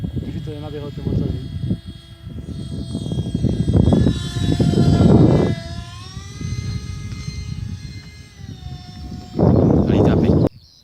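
An RC Airbus A320 model airplane flies with its electric motor running, a whining engine tone that rises and shifts in pitch as it passes, loud at times and mixed with people talking nearby.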